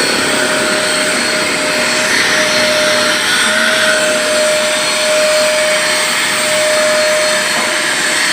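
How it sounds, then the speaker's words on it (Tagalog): A cheap vacuum cleaner runs at a car wash, a loud, steady whine with an unbroken high tone that keeps going without a break, with no talking. "Ito nag-vacuum na mga lods. Yan. Ito yung vacuum na."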